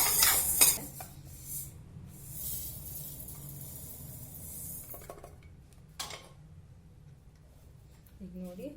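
A spoon scrapes and clinks against a hot pan while roasted urad dal is stirred after the stove is switched off, several short metallic scraping bursts with quiet gaps and a voice at the end.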